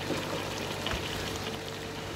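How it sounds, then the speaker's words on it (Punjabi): Boiled pasta noodles drained of their cooking water in a home kitchen, giving a steady close rush of pouring water throughout with no talk. "ਹੁਣ ਇਹਦਾ ਪਾਣੀ ਸਟੇਨ ਕਰ ਲੈਂਦੇ ਆਪਾਂ।"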